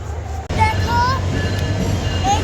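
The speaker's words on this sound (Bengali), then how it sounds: "একটা ট্রেন গেল, আমার কান ফাটিয়ে দিল।" A train passes close by, a loud, steady rumble with a rising whine and squealing tones, lasting the whole stretch after a brief dip at the start, with people's voices mixed in.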